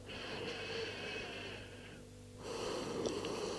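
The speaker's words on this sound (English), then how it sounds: "you might be able to hear your breath landing on the earth" Slow, close breathing from someone lying on a yoga mat: a soft, airy inhale and exhale with a brief pause between them, faint and intimate.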